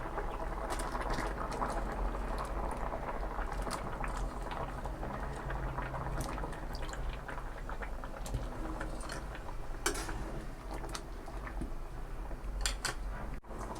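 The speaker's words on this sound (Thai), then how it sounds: "แกงแล้วเดือดแล้วจ้ะ" Thai red pork curry with eggplant bubbles steadily at a simmer in a pot, soft continuous gurgling and popping with faint crackles, close and low in volume.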